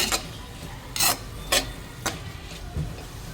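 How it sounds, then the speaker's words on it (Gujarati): Mixed vegetables for street-style Hakka noodles sautéing in a pan, with salt and black pepper added, as a spatula scrapes and stirs in sharp periodic strokes, five or so rasps over a faint sizzle. "તમે જોઈ શકો છો આપણી સબ્જીઓ સંતળાઈ રહી છે"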